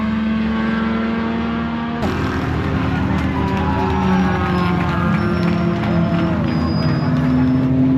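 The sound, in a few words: Chevy Bolt and Datsun electric race cars passing the start-finish line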